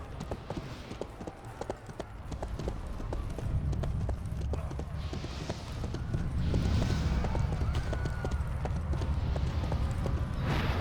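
A horse mount gallops in the online fantasy game Rift, with rapid rhythmic clip-clop hoofbeats running steadily under background game ambience and occasional louder swells.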